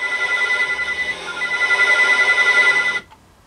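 Telephone ringing inside the horror story game "...Hello?", a steady, continuous electronic ring that fills the clip for about three seconds and then cuts off abruptly into quiet.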